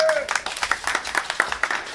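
Audience applause at the opening of a drawing exhibition in Gunungkidul, a short burst of scattered, uneven clapping from a modest crowd, with a voice briefly heard at the start.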